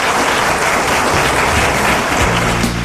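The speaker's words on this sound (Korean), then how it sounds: "뜨거운 박수 부탁드립니다" A university lecture audience gives warm applause after a CEO's talk, a loud, dense, uninterrupted burst of clapping that fills the short span evenly, with no voices over it.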